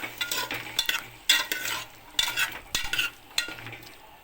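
Potatoes, beans, carrot and green chillies stirred in a pot for vegetable biryani, a run of close scraping and clattering spoon strokes in irregular bursts over a light sizzle.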